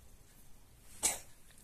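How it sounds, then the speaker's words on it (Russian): A cat gives a single short, sharp sneeze at close range in a quiet indoor room, preceded and followed by faint background hush. "Ты что там, чихаешь?"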